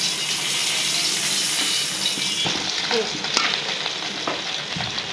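Fish fry in hot oil, a steady bright sizzle throughout, with a few clinks and stirring sounds near the end.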